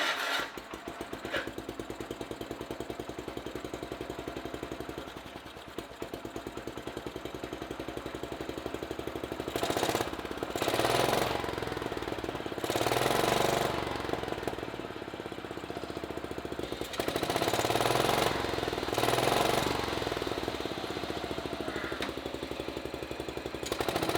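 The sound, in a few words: lawn mower engine running after carburetor cleaning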